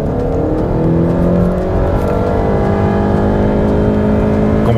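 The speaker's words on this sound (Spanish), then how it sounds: "Vamos a comprobar la aceleración del Honda Civic EX en una caja CVT que no tiene cambios en la palanca." A Honda Civic EX with a CVT gearbox accelerates hard in Sport mode, its engine droning loud and close in a smooth, continuous rising whine with no gear shifts.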